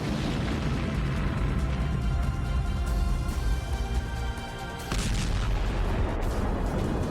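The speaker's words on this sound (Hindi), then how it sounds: "फिर अंदर लगी आग ने टैंक में रखे गोलों को भी एक्टिव कर दिया और फिर इसमें ऐसा धमाका हुआ" Ammunition inside a burning Russian tank exploding, a deep, continuous roaring rumble broken by a few sharper blasts, loud, with no voices.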